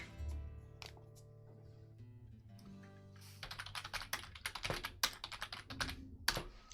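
Someone types on a computer keyboard during a digital painting session: quiet scattered key presses at first, then a quick, steady run of clicking keystrokes, close and alone without talk.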